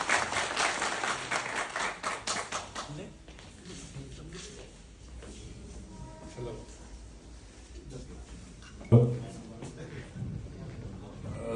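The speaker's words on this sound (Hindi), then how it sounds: "एक बार जोरदार ताली होंगे।" Loud round of applause from the audience at a dealer meet, dense clapping for about three seconds that thins out, followed by a quieter room with scattered noise.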